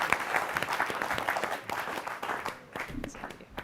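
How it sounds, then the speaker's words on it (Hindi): Audience applause welcoming a guest at a Holi comedy show, energetic clapping from a crowd that swells and then thins toward the end. "जोरदार तालियां एक बार मुमताज नसीम के लिए।"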